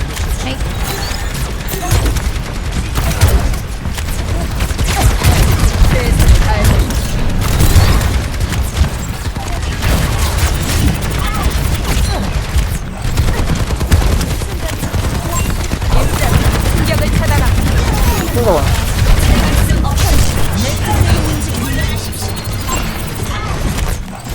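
Dense, continuous gunfire in a video game match in Midtown, with rapid bursts, booms and clattering impacts layered together at steady high volume throughout.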